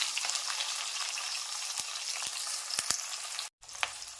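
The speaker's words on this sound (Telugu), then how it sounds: "సన్నగా తరిగిన ఆనియన్స్ వేసుకుంటున్నాను." Finely chopped onions fry in hot oil with mustard seeds, a close, steady crackling sizzle broken by a few soft stirring knocks and one brief dropout near the end.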